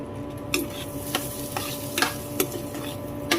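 Millet pongal being stirred in a pot, a spoon scraping and knocking the pot in irregular strokes about every half second, close and moderately loud over a faint steady hum.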